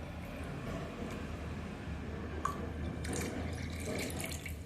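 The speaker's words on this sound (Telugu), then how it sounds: "వాటర్ వాటర్ మూడొంతులు నీళ్ళు పోయాలి" Water is poured in a steady, soft stream into a homemade buttermilk mixture, with a few faint clinks and splashes near the end.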